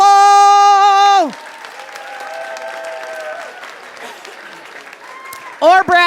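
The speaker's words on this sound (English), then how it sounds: "nice big warming round of applause for Mr. Brad Campbell." Live audience at a Moth storytelling show bursts into sustained applause after a loud sustained tone fades, the clapping steady and broad for several seconds before a loud voice cuts in near the end.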